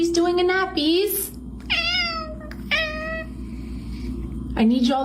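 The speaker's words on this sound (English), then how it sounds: "I need y'all to meow at the same time, please." Several cats meow in turn, clear and close, with rising and falling cries spread across a few seconds over a steady background hum, while a person talks briefly at the start.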